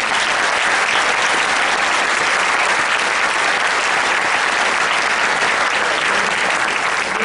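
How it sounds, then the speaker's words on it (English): A room full of people applauds teenage Republican debate candidates, loud sustained clapping that holds steady throughout with no voices on top. "a round of applause for all of you"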